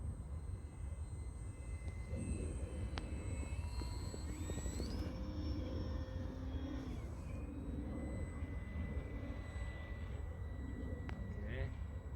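An RC Carbon Cub S2 model airplane with flaps flies a low pass, its whining electric motor rising and shifting in pitch as it approaches, steady at moderate distance under a voice talking over it.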